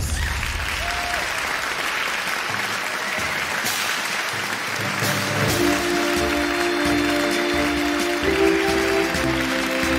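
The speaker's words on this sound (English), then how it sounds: "Welcome back with plenty of applause" Sustained applause from a large crowd at a debate tournament semifinal fills the clip, steady and fairly loud, with a faint tonal hum emerging partway through.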